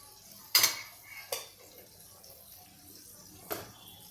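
Paneer pieces are dropped into a pot of Jain veg pulao with tomatoes and cauliflower, making a few quiet clinks and knocks of a spoon against the pot, spaced apart with near-silence between them.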